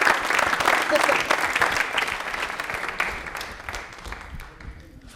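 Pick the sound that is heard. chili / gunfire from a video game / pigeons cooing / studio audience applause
studio audience applause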